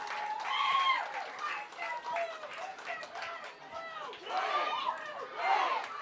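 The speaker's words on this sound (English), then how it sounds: "Darien faithful now cheering for that one" A crowd at a girls' high school lacrosse championship, Darien against New Canaan, cheers and shouts after a Darien goal. Voices rise and fall in waves across the whole stretch, with a commentator talking over them.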